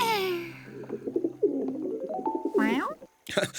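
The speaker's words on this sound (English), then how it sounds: "It's only an owl." An owl hoots at night along quiet country lanes, a short tonal call at the start followed by chattering voice-like sounds and a brief burst of noise.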